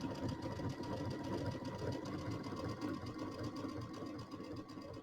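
Sewing machine running a triple stitch in the ditch on a quilt, a faint steady mechanical whir and rapid chatter of the needle going back and forth, continuous and unbroken, no talking.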